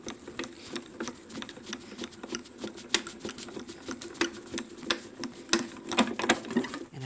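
A Grand Calibur die-cutting machine cranks a card through cutting plates, giving a close, busy run of clicking and rattling ratchet ticks that lasts several seconds.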